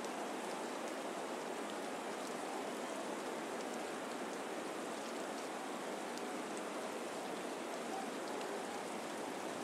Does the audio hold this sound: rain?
yes